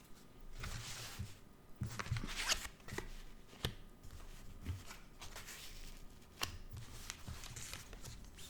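Tarot cards shuffled and laid out one by one, with soft papery riffles, slides and sharp taps as cards hit the surface, repeating irregularly at close range with no talk.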